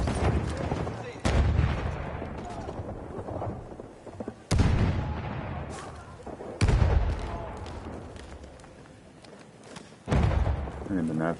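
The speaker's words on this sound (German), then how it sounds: "Einige kleine Schüsse mehr getan." Gunfire and explosive blasts in the World War I shooter Battlefield 1, loud sharp bursts repeating every couple of seconds over continuous battle noise, with someone talking throughout.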